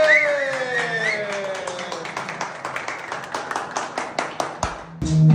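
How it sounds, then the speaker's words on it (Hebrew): Applause for Yati at a barbers' training session: a small group claps in a quick, fairly even rhythm that builds and carries on for several seconds, close by and with no talking over it. "כפיים ליאתי!"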